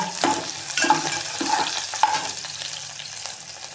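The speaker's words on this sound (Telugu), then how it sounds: "తాలింపు వేగింది, మళ్ళీ మాడిపోద్దండి" Tempering for gongura pullagura sizzles steadily in a pan, with stirring and a few sharp utensil clinks over the constant crackle, close and moderately loud, with no voices.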